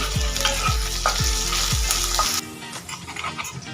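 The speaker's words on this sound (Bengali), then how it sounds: "ভেন্ডিটা আমাদের অনেকটাই ভাজা হয়ে গেছে" Okra fries in mustard oil in a pan with a loud continuous sizzle and a rhythmic stirring scrape repeating about twice a second, then the sizzle drops quieter and steadier.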